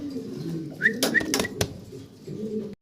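Fancy pigeons coo in low, rolling murmurs close at hand, broken by a few sharp chirps and clicks, with faint voices in the background.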